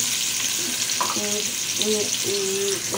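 Onions frying in a pan for mutton paaye, a loud continuous sizzle close by, with brief tonal squeaks from stirring partway through.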